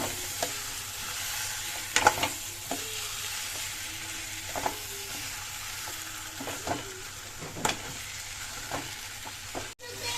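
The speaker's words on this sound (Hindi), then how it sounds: "तो इस टाइम पे मैं डालूंगी हमारे मटर" Peas and potatoes frying in oil-rich masala, with a steady sizzle under repeated scraping stirs of a spoon against the pan throughout.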